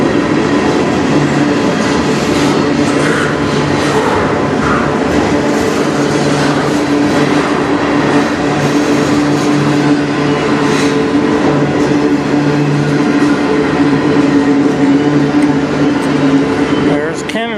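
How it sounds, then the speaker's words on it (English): A CN freight train rolls past steadily and loudly on the Strathroy Subdivision in Sarnia, Ontario, a continuous rumble with metallic rail clatter and faint squeal, while someone speaks over it. "This is the first train today."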